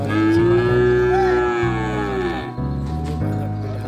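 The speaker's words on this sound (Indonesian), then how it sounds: "ada sapi Mesir" Cattle at the Ciwareng livestock market in Purwakarta, where animals are sold for sacrifice, give a long, loud, close moo that slowly bends in pitch, followed by shorter lowing calls amid the pen's steady background din.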